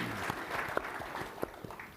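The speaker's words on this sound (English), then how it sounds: "Can we just have a round of applause for Daniel?" Audience applauding a speaker named Daniel at a Pacific Islands business briefing, a soft, steady patter of many hands, moderately distant and fairly quiet, with a few sharper claps standing out.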